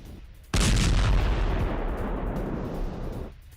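A heavy blast from Israeli bombardment in southern Lebanon hits suddenly and loud, then rumbles and decays over about three seconds above a low background hum.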